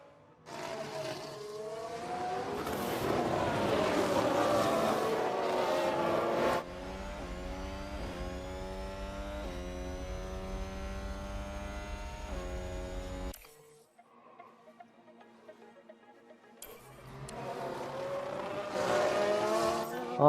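An onboard Formula 1 race car engine in the F1 Manager 22 video game screams loud and close. Its rising whine climbs through gear changes, drops to a quieter stretch, then returns to full revs.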